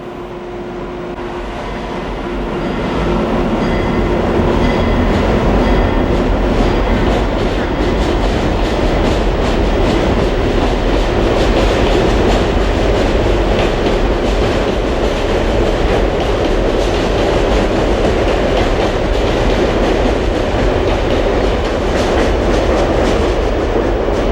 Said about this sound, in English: the train slips quickly out of the station headed for New York City